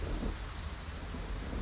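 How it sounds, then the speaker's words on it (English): Steady rain falls outdoors in the video game Scarlet Hollow, a dense, even hiss with a low rumbling undertone throughout. "It's raining."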